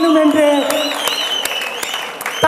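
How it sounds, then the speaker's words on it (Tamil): An audience at a stage event claps to welcome a speaker, brisk applause heard loud and close, with a voice or sustained tone running over the clapping. "அவருக்கு ஒரு கரகோஷத்தையும் கைத்தட்டல்களும் இந்த மேடையில் வேணும்"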